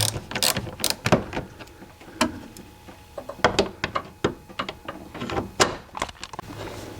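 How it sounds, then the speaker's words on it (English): A ratchet on a long extension loosens the fan shroud bolts on a 1999 GMC/Chevy truck, making bursts of quick, sharp metallic clicks with short pauses between them, close up. "So I'm just using this long extension to get these bolts off"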